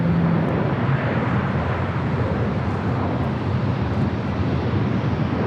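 A Korean Air airliner taxiing at Los Angeles International Airport, heard as a steady broadband jet engine rumble with wind noise, constant in level throughout and with no talk.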